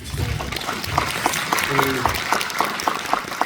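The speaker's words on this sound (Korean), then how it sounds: "지금 말씀에는 저도 박수가 저도 나오고" Clapping from a cinema audience fills the background, a dense patter of hand claps continuing steadily while a voice speaks over it.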